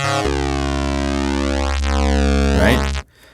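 Omnisphere 2 software synthesizer holding a bright, buzzy analog-style tone with sweeping, shifting harmonics, loud and steady for about three seconds before cutting off abruptly.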